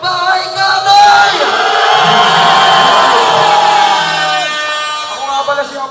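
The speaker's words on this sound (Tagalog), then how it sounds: "Aking pong hinihingi ang malakas na palakpakan na sigawan ng Bahay Katay!" Crowd at a rap battle event in the Philippines erupts in loud cheering, shouting and whooping, sustained and dense throughout with an air horn blast near the start.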